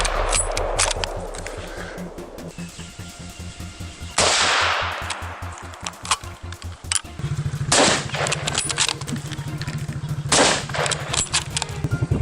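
A hunter fires at feral hogs, and sharp gunshot cracks ring out amid rapid repeated impulsive bangs, loud and close, spread across the whole stretch.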